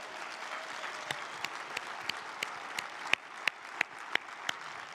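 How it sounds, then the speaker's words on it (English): Faint, thin clapping from an audience at a political gathering in Chicago, with sharp, distinct claps standing out at a fairly regular pace over a soft, quiet background of scattered hands. "Give yourselves a big round of applause."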